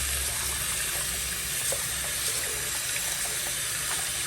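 Tap water runs steadily into a sink while a glass pipe is rinsed, a continuous close splashing gush with no talk.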